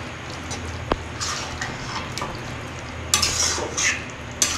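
Mutton masala with curd is stirred in a pan over a low flame, a soft scraping swirl with gentle clinks against a low sizzle, and a louder burst of scraping near the end.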